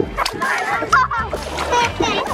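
A child splashes through shallow creek water at Robie Creek, quick sloshing and splattering up close, with a voice and adult voices mixed in.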